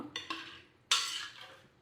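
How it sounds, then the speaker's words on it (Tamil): A rice dish stirred in a cooking pot after water has been added. Two quick clinks are followed by a louder scraping sweep and a fading swish, close up and heard alone. "தண்ணி சேர்த்துட்டு நல்லா இப்போ கலந்து விட்டுக்கலாம்."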